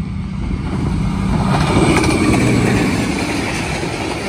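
Jaffar Express led by a ZCU-26 locomotive passing the Lalamusa level crossing in Pakistan: a steady, loud rolling rumble of wheels on rails with faint rhythmic clatter, continuous throughout with no speech.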